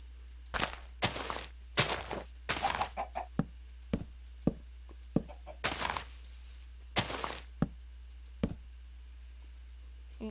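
Chicken clucking in the Minecraft modpack Tekkit: a series of short, clicky game-sound clucks spaced irregularly over a low steady hum, moderately loud and with no voice.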